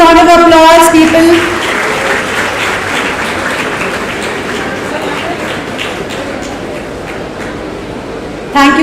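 A college audience claps through a welcome ceremony where a principal offers a memento, bouquet and shawl, steady loud applause running for several seconds, with a speaking voice over it at the start and again at the very end.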